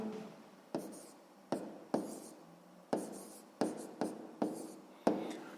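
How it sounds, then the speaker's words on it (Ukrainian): A pen writes an answer by hand on paper during a sixth-grade maths exercise, making a steady run of close, soft scratchy strokes with regular sharp touches, and no voices. "Ну що ж, записуємо тоді відповідь."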